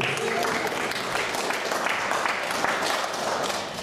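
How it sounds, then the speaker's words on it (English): A crowd of wedding ceremony guests gives a groomsman a round of applause, continuous mid-distance clapping with voices mixed in beneath it. "Give Zeke a round of applause"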